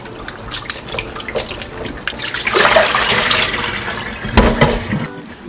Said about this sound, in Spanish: lava la cáscara de la piña en ese agua